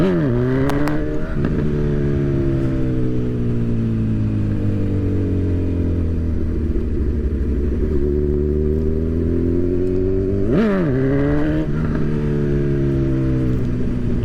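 Motorcycle riding along at about 20-25 mph, its engine droning steadily with a couple of sharp throttle blips and shifts, loud and close.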